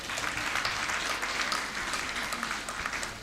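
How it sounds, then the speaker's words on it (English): A graduation congregation audience applauds, a dense even wash of many hands clapping that stays steady and fairly loud for a few seconds. "I had thought that would attract a bigger applause."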